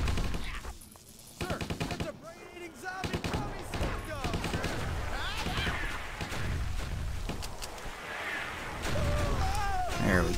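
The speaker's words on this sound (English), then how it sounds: "Those explosions drop him in one go." Gunfire and explosions in the Stubbs the Zombie video game, bursts of shots and blasts rattling on and off over ten seconds, with voices talking through the battle.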